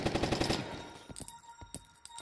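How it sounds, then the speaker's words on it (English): Rapid gunfire in the run-and-gun roguelite Zombiehood: a quick string of sharp shots up front, then a few scattered single shots, close and fairly loud with no talk. "Let's try the gun right here."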